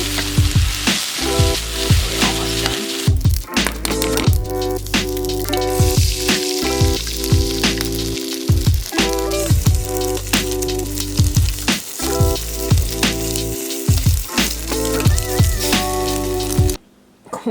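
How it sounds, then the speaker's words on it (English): Spinach cooks down in its own juices in a hot pan, a continuous crackling sizzle with dense popping, loud and close throughout, cutting off abruptly just before the end. "I'm just putting these juices to cook down my spinach"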